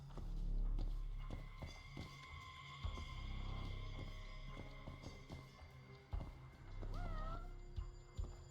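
In the video game Judgment, set in Kamurocho, a cat meows a few times amid ambient game sounds and footsteps-like thumps, the mewing moderately clear near the end.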